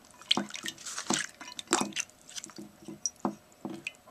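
Rite in the Rain waterproof notebook paper soaking in water gives soft, irregular drips and small squishy splashes, close and quiet, with no voices.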